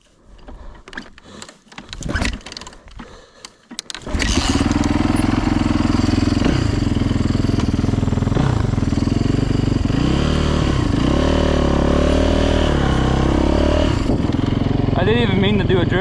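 A Yamaha YZ450 dirt bike engine, just fully rebuilt, fires up after a few seconds of scraping and clunking, then runs loud and close with a steady rapid idle and several short blips of revving.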